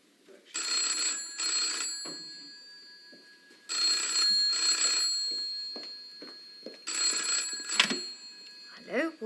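An old-fashioned telephone bell rings in three long bursts at a pub, loud and close, with speech in between and after the rings.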